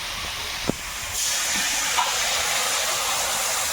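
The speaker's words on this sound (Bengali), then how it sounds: "এবার জল দিয়ে দেবো" Water poured into a hot pan of fried shrimp, bitter gourd and potatoes, with a sharp knock followed by a loud, steady hiss of steam that continues to the end.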